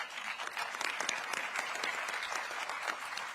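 Conference audience applauding at a health-day opening at COP28, a moderately distant round of crisp, steady clapping.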